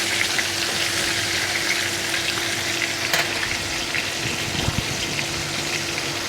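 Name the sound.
chicken frying in oil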